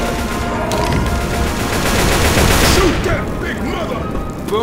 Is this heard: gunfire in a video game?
yes